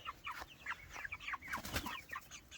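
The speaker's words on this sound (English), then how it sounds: "we built this new chicken tractor here for our meat birds." Cornish cross meat chickens in a chicken tractor, a flock of about twenty birds, give soft overlapping clucks and chirps close by, with a brief flutter of wings midway.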